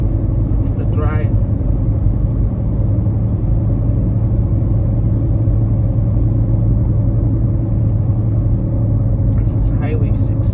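A car driving along Highway 16 towards Hinton among mountains, a steady low road rumble and engine drone from inside the vehicle, continuous and even, with a person talking over it.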